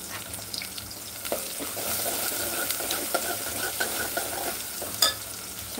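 Onion frying in a pan, a steady broad sizzle with soft stirring scrapes throughout and a sharper clack near the end, with no voice over it.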